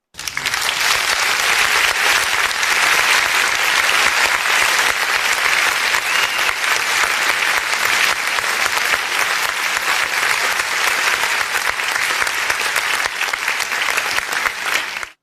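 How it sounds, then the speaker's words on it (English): Sustained audience applause at a church gospel dance event, loud and dense, holding steady with no pause for about fifteen seconds before cutting off. "So let me give you an applause."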